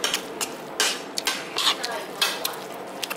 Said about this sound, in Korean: 여기다 볶아 먹어요.